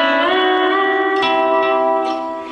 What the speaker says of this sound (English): And then I skip over and hit that third and fourth string again.